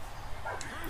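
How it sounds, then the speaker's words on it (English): Dogs yip and bark in the background, brief and somewhat distant, beneath a person talking during a session of the fighting game EA Sports UFC. "sorry if you can hear those dogs in the background"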